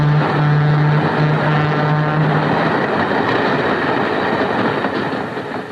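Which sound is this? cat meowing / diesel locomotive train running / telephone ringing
diesel locomotive train running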